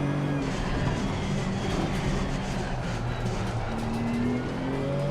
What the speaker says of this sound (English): Hitting the rev limiter even.